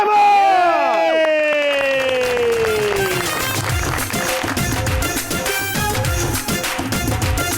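A studio audience on a television talk show breaks into loud clapping and cheering to welcome a guest, a dense sustained roar following a rising announcer's voice and swelling music.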